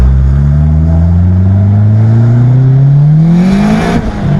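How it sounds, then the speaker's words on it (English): A Honda Civic EG hatchback, freshly tuned, revving under full throttle from low RPM, a loud close engine drone climbing steadily in pitch for about four seconds before easing off. "It's best to start from like a lower RPM and then just floor it"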